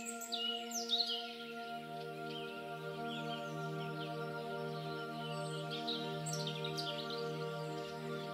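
Several birds chirp and trill at a distance over a steady background hum, with a brief burst of calls near the start and another later.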